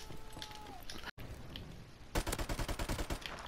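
Rapid automatic bursts from an MP44 assault rifle in Modern Warfare Remastered crackle loud and close, a dense rattling volley dominating the second half after quieter game ambience and a brief dropout.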